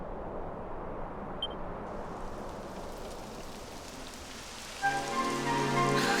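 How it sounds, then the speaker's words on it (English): Rain falls steadily in the Dragon Quest XI game world, a soft constant hiss of drops on surfaces, joined near the end by a gentle melodic musical tone. "It would have to go and start raining, wouldn't it?"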